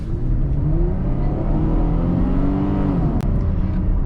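A 2011-2013 Chevrolet Camaro 1LT V6 automatic accelerates, its raspy engine note rising steadily in pitch under load, heard loud and close from inside the car with no talk.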